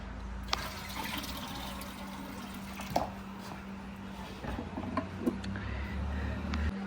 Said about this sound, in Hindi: तो अभी मशीन को हीट करने से पहले हम इसमें डाल देंगे पानी।